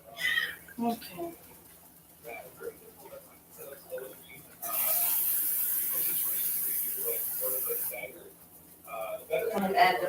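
Tap water runs into a cup in a home kitchen for cooking neckbones, a steady rush lasting a few seconds between stretches of quiet talk.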